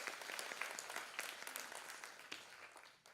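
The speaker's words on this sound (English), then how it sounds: "like a big round of applause for her for being here today" Audience applause at a live dance performance, scattered individual claps clearly audible, fading gradually over a few seconds and fairly faint overall.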